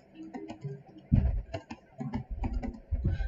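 Computer keyboard keys are tapped in quick irregular clusters of clicks, close and crisp, with brief pauses between bursts.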